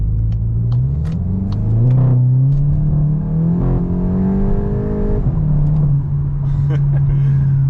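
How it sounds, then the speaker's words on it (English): A 2020 Ford Mustang GT V8 accelerating hard, loud and close, its engine note climbing through rising revs with a brief shift dip, then holding a steady strong drone. "Let's do a little acceleration here."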